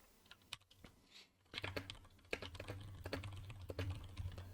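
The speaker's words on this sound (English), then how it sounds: "just by simply typing over the top of it" Close, quiet tapping of a computer keyboard, quick irregular keystrokes in short bursts with a brief pause, no talking.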